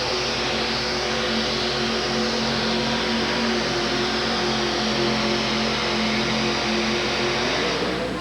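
A supercharged blown Chevrolet engine in a two-wheel drive pulling truck roars steadily at full throttle during a 1987 truck pull in Pittsburgh, loud and continuous for the whole stretch with no talk.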